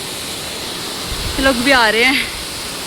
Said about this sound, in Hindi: वाटरफॉल एकदम हमारे ऊपर है